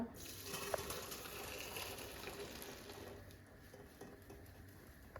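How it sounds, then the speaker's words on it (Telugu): Cooking water is poured off boiled lentils into a bowl below, making a quiet continuous trickling and splashing stream with faint clinks, low in level and without speech. "ఇప్పుడు పప్పు ఉడికిపోయింది కదా, దీని వాటర్ అంతా వేరే డ్రైన్ చేసేసుకుందాం అనమాట"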